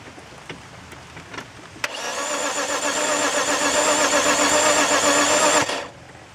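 A 2004 BMW 325i engine suspected of having no compression cranks over on the starter, a steady rapid whirring churn that runs about four seconds at close range before cutting off, with no voices.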